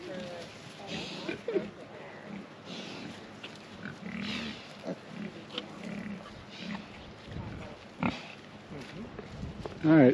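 Pasture piglets on an Idaho farm grunt and oink in scattered bursts, close and moderately loud, with people talking over them.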